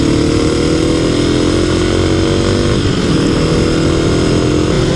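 A Kawasaki KLX300 dual sport motorcycle with dual sport tires and a Race Tech spring rides along, its engine a steady, loud drone that holds throughout with no voices.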